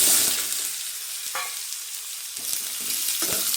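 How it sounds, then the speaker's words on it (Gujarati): Cumin seeds and asafoetida crackle in hot oil over a low flame as a tempering for a radish sambharo, giving a steady soft sizzle with a few spoon scrapes and stirring clicks, and no speech. "પછી આપણે વઘાર કરી લઈએ"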